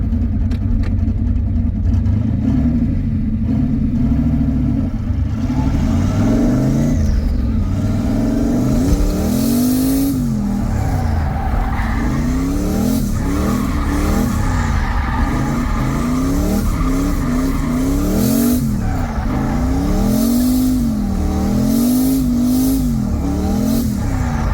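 A drift car at a drift event, engine revving hard in repeated rising and falling sweeps while the tires screech and skid, recorded loud from inside the car, with no talking.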